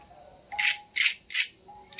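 A crispy fried Bombay duck (loitta fish) fritter crunches in four loud, distinct bites or snaps spaced about half a second apart, close and alone with no talk.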